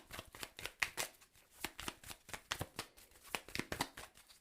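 Tarot cards being riffled and shuffled by hand, a quick run of crisp, irregular flutters and soft slaps close up, with no voice over it.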